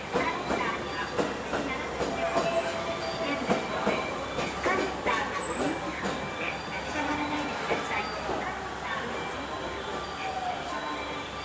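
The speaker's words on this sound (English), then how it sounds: "The marine liner number 19 bound for Takamatsu is entering the station." A JR West 223 series Marine Liner electric train bound for Takamatsu rumbles steadily into a station, with rhythmic wheel clatter and mechanical hum at a moderate distance, faint voices in the background.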